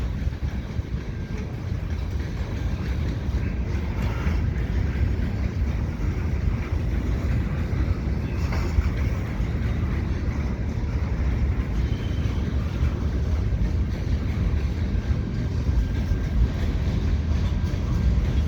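Two CN freight trains meeting on the Lachine Canal Bridge in St Henri in winter, a loud continuous rumble and roar of rolling cars with wind buffeting the microphone, no talk.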